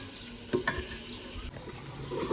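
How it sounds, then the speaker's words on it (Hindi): Tomatoes frying in a pan for chickpea curry: soft sizzling under a few sharp clinks of a spoon stirring against the pan, close and fairly quiet, with no talking. "चलो टमाटर की अच्छे तरीके भुनाई कर लो, हाँ जी फिर जो है छोले ऐड कर दो"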